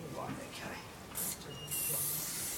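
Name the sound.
spray paint can spraying onto a board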